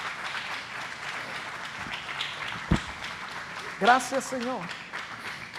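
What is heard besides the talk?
congregation applauding in church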